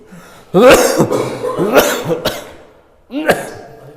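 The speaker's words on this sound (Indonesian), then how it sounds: "Kita juga udah batuk-batuk juga nih." Several harsh coughs in a row, close and loud, with brief pauses between bursts and a final cough after a short silence.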